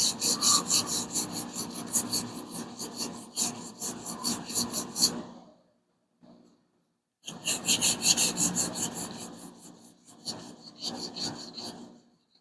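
Hand block sanding of primer on a Hemi Plymouth Duster body produces steady, rapid rasping back-and-forth strokes, close and loud, that pause briefly before resuming in the same rhythm.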